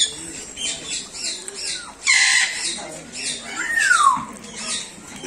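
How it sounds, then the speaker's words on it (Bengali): Several birds call inside an aviary at a bird park in Sreemangal, with repeated squawks and one sharp descending whistle-like cry, fairly close and mixed with other chatter and background noise. "সুন্দর সুন্দর শব্দ করছে পাখিগুলা।"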